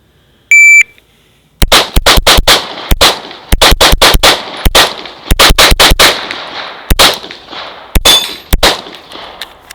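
Loud, close pistol shots from a SIG Sauer P226X fired at a range, a dozen or more sharp reports in quick uneven bursts with short pauses, preceded by a brief electronic beep.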